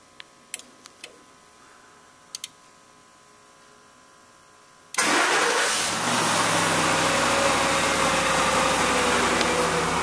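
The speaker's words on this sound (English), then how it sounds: "with the key in the on position, the car starts normally" A car engine fires up via remote starter with the key in the on position: a few quiet ticks and clicks, then an abrupt start into a loud, steady idle that runs for the remaining five seconds.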